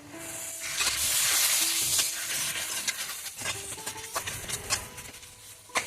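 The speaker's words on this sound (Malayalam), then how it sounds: "സവാള ഒന്ന് വഴന്ന് വെക്കാം ഇത് പകുതി വഴന്ന് വരുമ്പോൾ നമുക്ക് തക്കാളി ചേർത്തോളാം" Onion and tomato sauté in a pan for a beef dish, a close, steady hiss of sizzling oil that swells early and then settles, punctuated by soft stirring scrapes and light clicks.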